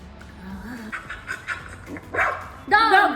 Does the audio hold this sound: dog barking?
yes